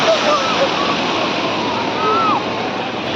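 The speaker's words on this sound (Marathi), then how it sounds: "माझा आवाज कदाचित येत नसेल पण लाटांचाच आवाज भरपूर आहे." Sea waves crash on a shore on a hot day, a loud, steady, close roar of rushing water that buries a faint voice.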